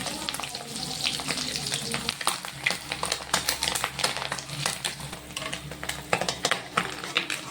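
Rohu fish roe fritters frying in hot oil in a home kitchen, a steady close crackling sizzle with bursts of spattering and occasional stirring clinks throughout.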